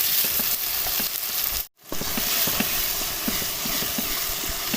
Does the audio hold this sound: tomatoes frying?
yes